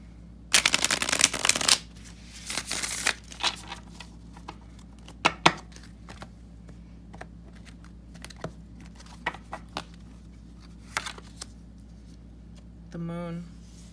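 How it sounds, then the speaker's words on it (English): Tarot cards shuffled by hand in bursts of riffling and soft slaps, close and fairly loud, with scattered single taps and a short spoken phrase near the end. "One more shuffle."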